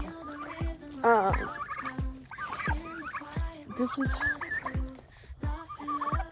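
Turkeys gobble repeatedly in rapid, warbling bursts, close and loud, with overlapping calls and some low background thumps.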